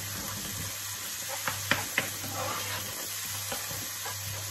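Chopped vegetables softening in a little oil in a casserole pan over medium-high heat, a soft steady sizzle with a few spoon scrapes and clicks as they are stirred, with no talking.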